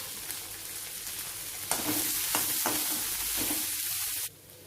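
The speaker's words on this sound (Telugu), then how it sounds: "ఒక మీడియం సైజు ఉల్లిపాయ చిన్న ముక్కలు కట్ చేసుకోవాలి, అది ఇందులో వేసుకోవాలి. కొద్దిగా కరివేపాకు," Chopped medium onion, chillies and curry leaves fry in hot oil: a moderate sizzle jumps to a louder, busier crackle as more goes in, with stirring scrapes, then cuts out near the end. No one speaks.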